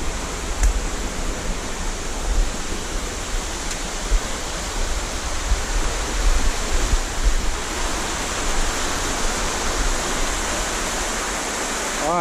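A brown river rushes under a bridge, a dense, steady roar of flowing water that stays loud and unbroken throughout.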